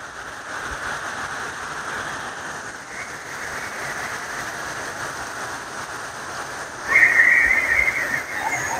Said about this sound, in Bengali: বৃষ্টির গতি গতি দেখেন একবার, মারাত্মক লেভেলের বৃষ্টি হতেছে